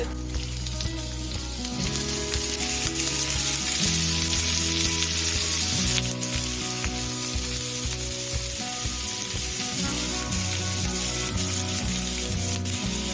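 Giant grouper fish bones frying in hot oil with ginger, a steady close sizzle and crackle running throughout beneath a low continuous background hum.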